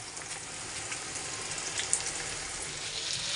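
Sliced bitter gourd frying in a pan, a steady, dense crackling hiss of hot oil that holds even throughout, close by and with no voices.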